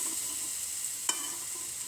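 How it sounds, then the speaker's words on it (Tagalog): Onion and garlic sauté in hot oil with a constant, even sizzle and a single brief scrape of a utensil partway through. "Gigisa ko na po ang sibuyas saka bawang."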